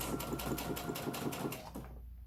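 A sewing machine stitches close to the end of seam binding on a lunchbox placemat, running in a steady rapid rhythm of needle strokes for nearly two seconds before stopping abruptly, up close and alone.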